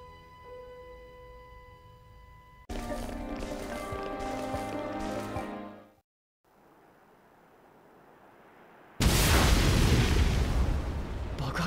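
An explosion in the video game Xenoblade Chronicles 2 erupts near the end as a loud, broad roaring blast, following tonal music and a brief quieter rumble, with no voices over it.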